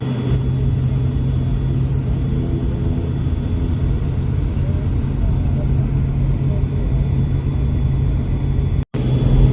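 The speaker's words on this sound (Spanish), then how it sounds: "Estamos ya rodando hacia la pista 14 izquierda para despegar hacia Villavicencio." Steady, loud low cabin rumble of an ATR 42-600 turboprop taxiing toward runway 14 left, with a constant droning engine tone holding evenly throughout and a brief dropout near the end.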